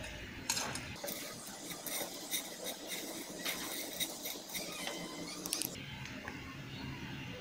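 Semai vermicelli stirred as it fries in a pan, a busy run of scraping and clinking from spoon against metal with a faint sizzle beneath, close and steady for the whole stretch with no talking.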